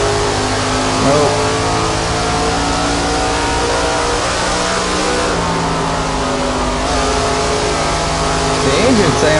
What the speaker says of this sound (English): The engine sounds are awesome in this game.